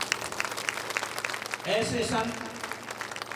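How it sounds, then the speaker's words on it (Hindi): Audience applause at a devotional gathering honoring a visiting saint, a crackling patter of clapping running under a voice as he continues speaking. "आप तालियां बजाइए।"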